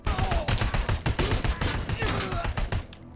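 Gunfire in the video game RoboCop: Rogue City, a dense run of loud, rapid shots and impacts rolling through the whole stretch, with a voice talking over the action.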